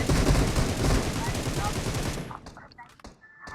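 Firecrackers set off outdoors burst in a dense, rapid crackling barrage that dominates the first two seconds, then thins out into scattered pops and distant bangs.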